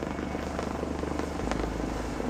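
A mountain rescue helicopter in the Scottish Highlands drones steadily, its loud, close rotor chop pulsing rapidly and evenly throughout, with no talk over it.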